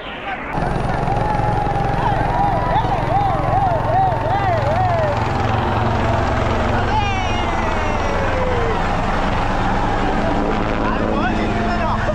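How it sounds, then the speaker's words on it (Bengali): A helicopter flies over the crowded bathing ghats of the Maha Kumbh Mela at Prayagraj's Triveni Sangam, showering flowers. Its loud, steady rotor drone runs throughout over a busy crowd, with wavering tonal sounds drifting above it. "হেলিকপ্টার দিয়ে পুষ্প বৃষ্টি করা হচ্ছে।"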